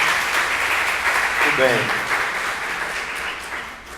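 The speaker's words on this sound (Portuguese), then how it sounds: "Eu queria uma salva de palmas aí para o pessoal das feiras agroecológicas" Applause rises from an audience at a solidarity-economy gathering in João Pessoa, a steady wash of clapping with a brief spoken word over it near the middle.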